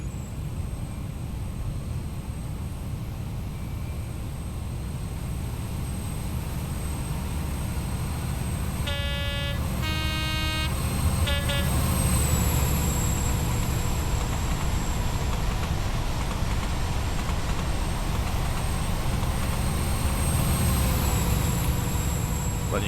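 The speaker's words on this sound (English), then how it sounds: "let you guys listen to that beautiful Valenta engine," A Valenta diesel engine in an HST train at notch 5 in Train Simulator 2017 between Exeter and Paignton, a loud steady drone with a high whine, a brief cluster of tones partway through, and the pitch rising slightly later.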